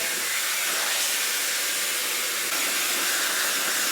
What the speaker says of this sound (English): Sorry if you can hear the washing machine going in the background.